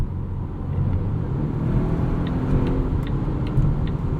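A 2020 Volvo V60 T8 E-AWD Polestar plug-in hybrid accelerates in Polestar Engineered mode, its engine note a low, steady rumbling drone that rises slightly, heard from inside the cabin.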